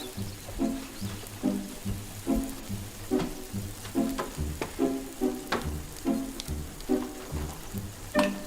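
Shredded potatoes sizzle and crackle as they fry in a pan for a simple breakfast, with a steady close frying hiss broken by repeated clinks and scrapes of a utensil.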